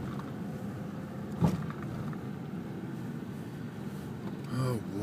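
A car creeping along a debris-strewn street in Rockaway, Queens after Hurricane Sandy, a low steady engine and road rumble from inside the cabin with a couple of brief louder bumps.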